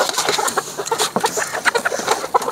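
Several hens clucking close by on a village farm, a busy run of short overlapping clucks and squawks with no talking over them.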